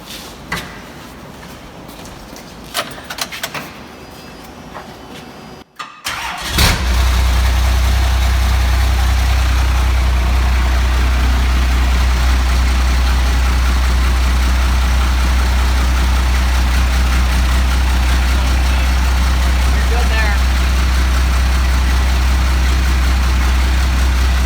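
A Dodge car engine cranks and catches after a few quiet seconds, then settles into a loud, steady, deep rumbling idle that continues to the end.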